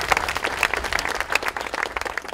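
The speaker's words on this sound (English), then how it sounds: "Let's give Trong a round of applause." A gathered crowd at a Japanese garden groundbreaking celebration claps steadily, a brief round of applause of many hands at middling volume with no voices over it.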